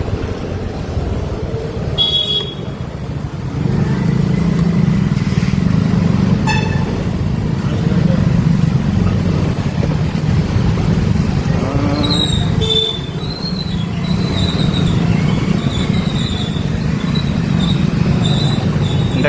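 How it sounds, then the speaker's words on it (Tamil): A water-tanker lorry pulls away down a narrow residential street after filling a tank, its engine rumbling loudly and continuously, with a horn-like toot and brief higher mechanical squeals partway through. "லாரி இப்போ தான் அந்த டேங்கை ஃபில் பண்ணிட்டு போகுது"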